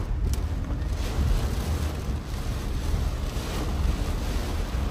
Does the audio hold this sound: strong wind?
yes